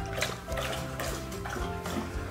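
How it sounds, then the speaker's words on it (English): Close, steady wet lapping as Bella the dog drinks water, a continuous run of small splashy licks at moderate volume with no voices. "Here's drinking some water before we go."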